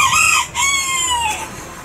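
A young rooster crows nearby, loud and alone, giving one drawn-out call with a rising then falling tone that lasts nearly two seconds.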